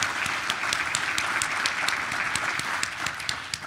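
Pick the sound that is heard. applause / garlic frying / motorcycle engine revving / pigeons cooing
applause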